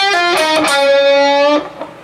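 A sustained electric guitar phrase, bright harmonic notes ringing with bends and sliding pitch, fading out near the end.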